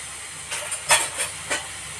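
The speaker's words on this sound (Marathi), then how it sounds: "आता आपल्याला ही डाळ ओतायची. कढीपत्ता, त्यात तिखट नाही." Dal poured into hot oil tempering with curry leaves hisses and sizzles, with a few sharp bursts of spitting over a steady crackle, close by.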